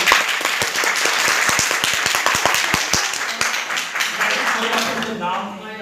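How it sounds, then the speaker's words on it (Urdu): An audience at a lecture breaks into loud, dense applause: a steady rush of many hands with sharp individual claps standing out, then thinning and fading toward the end. "آخر پہ اتنی زوردار تالیاں لگائیں"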